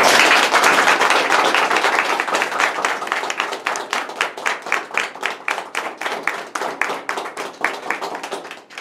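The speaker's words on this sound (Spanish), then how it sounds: "Yo pido también otro aplauso más para la..." Applause from an audience at a gathering, opening as a dense wash of clapping that thins into rhythmic, steady claps, loud and close throughout.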